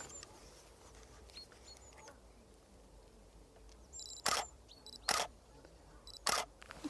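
A camera shutter fires three times, clear and close, while photographing long-tailed tits and great tits in a tree overhead at a lakeside nature reserve. Faint high bird calls twitter in the quiet background.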